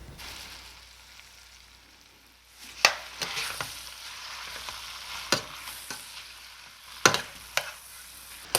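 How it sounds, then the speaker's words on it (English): Flour-dusted steak pieces browning in a hot pan for a steak and ale pie, a soft steady sizzle with sharp intermittent clacks and scrapes of turning the meat, close by, no talking. "we're just gonna wait for all of this steak to brown"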